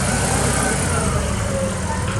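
A 2014 Octane FY70 pneumatic-tire forklift with a GM Vortec 4.3 V-6 engine runs in a steady, loud, close rumble, continuous throughout the short stretch.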